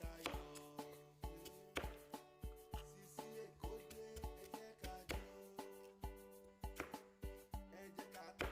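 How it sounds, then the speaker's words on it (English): Quick, steady knife chops through ginger on a board, a rapid regular rhythm of sharp taps heard up close, with no talking. "This is the ginger. I'm going to chop it."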